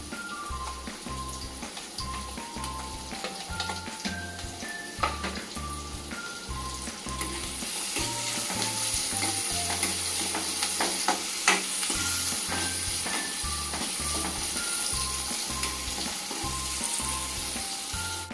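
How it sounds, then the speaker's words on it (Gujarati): Ginger, green chilli, garlic and onion sauté and sizzle in a pan for soya-chunk Manchurian, a steady frying hiss with occasional stirring scrapes, over light background music and no talking. "આદુ લીલા મરચાં અને લસણ સંતળાઈ જાય એટલે ડુંગળી નાખીશું અને ડુંગળીને પણ સાંતળી લેશું"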